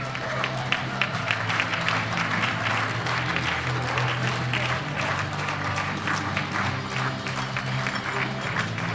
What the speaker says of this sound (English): give all of our athletes a big round of applause